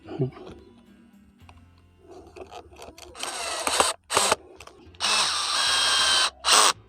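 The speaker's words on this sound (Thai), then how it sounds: "ผมใช้ ไขควงซัดนะในการขันสกรูนะครับ" An impact screwdriver driving screws whirs and rattles in several close bursts, some short and some longer, while a solar LED lamp is installed, after a stretch of quieter handling noises.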